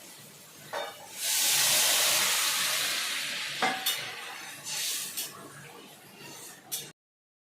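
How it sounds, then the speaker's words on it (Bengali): Water splashed into a hot pan of vegetarian ghugni bursts into a loud, sustained steam hiss that gradually tapers, followed by several short stirring scrapes and sizzling spurts before cutting off. "এবার দিয়ে দেবো আমি এর মধ্যে জল।"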